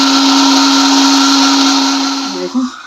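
An electric mixer grinder whirs steadily at high speed, blending chopped onion, garlic and green chillies into a paste; the loud, constant motor drone runs alone, then winds down near the end.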